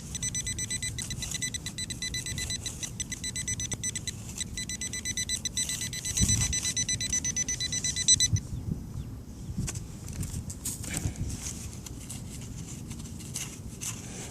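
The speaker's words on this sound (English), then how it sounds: "My pinpointers appeared to hit another signal" A TRX pinpointer used while metal detecting emits a steady high electronic tone for about eight seconds over outdoor rustling and ground noise, then cuts off, leaving soft scraping and handling sounds.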